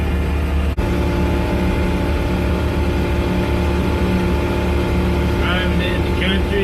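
An original 1958 BMW Isetta with a rebuilt engine cruising at about 40 mph, its small engine droning steadily and loudly up close, with a brief knock early on and faint chirps near the end.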